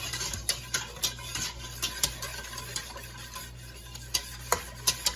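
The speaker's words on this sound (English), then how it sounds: "you should keep on stirring it so the cornstarch will be cooked" A wooden spoon stirs a thickening cornstarch and salep ice cream mixture in a pot over high heat, making steady soft scraping with regular louder knocks against the pot over a low hum.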